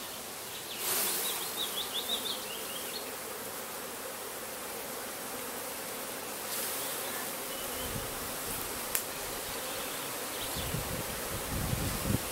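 Honey bees buzzing steadily around an opened hive with brood comb and honeycomb, a continuous close insect hum with faint rustling and a few soft knocks from handling the frames.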